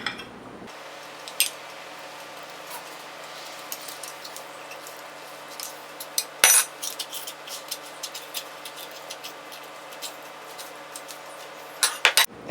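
A lemon pressed in a broken hand-held lemon squeezer while making cucumber dill salsa, heard as a steady faint hiss with scattered small clicks and creaks of the tool, one sharper clack midway and a couple more near the end.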